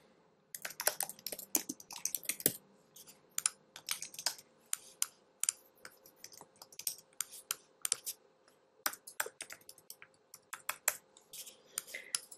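Someone types quickly on a computer keyboard to fill in an app registration form, with dense bursts of close, crisp key clicks separated by short pauses and no talking.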